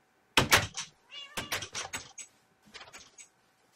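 Repeated meows from a cat in the Minecraft video game, three separate calls with short gaps between them, fairly close and clear, with no talking over them.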